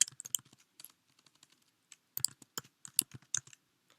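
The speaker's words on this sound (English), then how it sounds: "So I'm typing in carpal tunnel syndrome" Typing on a computer keyboard, bursts of quick clicking keystrokes separated by short pauses, close and clear with no talking.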